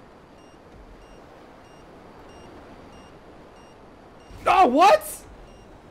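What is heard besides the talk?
warning beeps in video game GTA Online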